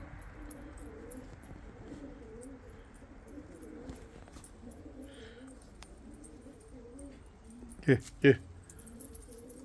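Pigeons coo softly in a coop, repeated low, rolling calls under quiet background noise, followed near the end by two sharp louder knocks.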